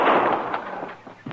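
A single sharp gunshot in a Western radio drama rings out loud and close at the start, followed by a decaying echoing tail with faint rustles, with no voices.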